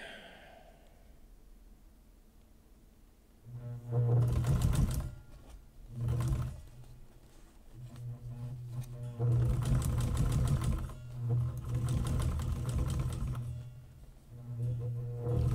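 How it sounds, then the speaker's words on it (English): Sewing machine stitching a laptop bag in a workshop, running in several loud bursts of rapid mechanical stitching separated by short pauses, after a quiet start. "I'm sewing some extra thread onto this because it just got caught in and I'm not willing to stop"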